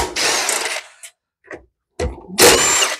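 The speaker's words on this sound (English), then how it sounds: "if you don't have one of these mini impacts" A mini impact wrench removes side cover bolts from a 179cc Craftsman MTD small engine, giving short hammering bursts separated by brief pauses and small clicks, loud and close by.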